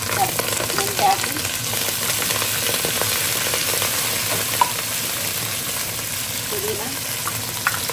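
Green chilies, mint and fenugreek leaves fry in a hot pan with a steady, close sizzle and crackle throughout, and a voice briefly speaks over it.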